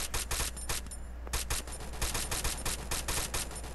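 Rapid bursts of automatic gunfire in the Free Fire shooting game, dense repeated shots crackling in quick succession, loud and close throughout with no pause.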